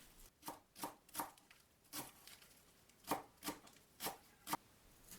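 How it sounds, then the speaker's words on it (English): A knife mincing parsley, cilantro and green onion on a cutting board, in quiet, distinct chopping strokes that come in uneven clusters of two or three, with no talking. "Mince the aromatic herbs, 10 grams of parsley, 10 grams of cilantro, and 1 green onion."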